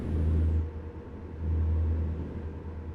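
A heavy truck engine in American Truck Simulator, running in 18th gear, gives a deep, steady rumble that swells in two low pulses and fades between them, close and without talk.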